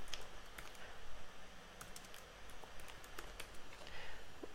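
Quiet, steady typing on a computer keyboard, with irregular light clicks and occasional sharper key taps close by, continuing alone without speech.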